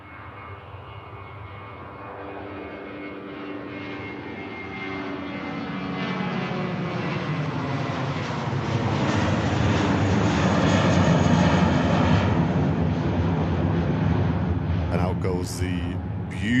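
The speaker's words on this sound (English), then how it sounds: "British Airways shuttle service in the One World special, heading back to London Heathrow." A British Airways Airbus A320 with sharklets heading out of Manchester Airport toward London Heathrow, its jet engines building into a loud, sweeping roar that swells and peaks near the end while a commentator talks over it.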